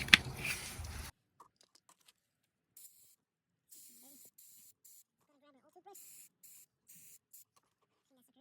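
A short, close burst of aerosol cleaner sprayed onto a Ford Fusion throttle body hisses for about a second, followed by near silence with faint scattered clicks and rustles.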